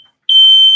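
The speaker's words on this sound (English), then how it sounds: "My stupid smoke detector is retarded." A single loud, piercing electronic beep from a household smoke detector, starting abruptly after a brief silence and holding steady to the end.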